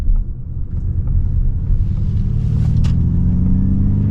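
A 2024 Ford Mustang Mach-E Premium AWD electric car pulls away with a low, steady rumble that swells smoothly as it gathers speed, close by and without engine roar.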